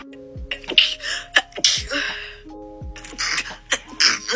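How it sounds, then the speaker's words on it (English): A person sneezes several times in quick succession, each a sharp close burst with a breathy intake before it, separated by short pauses. "here is my January sneezing compilation of"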